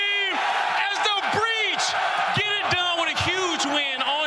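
A home crowd in Boston cheers and whoops loudly at a Call of Duty League Major tournament, a dense roar with repeated rising and falling shouts and yells.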